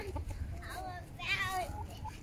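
A voice imitates a rooster crowing at a children's farm, a short high-pitched call repeated briefly, close up.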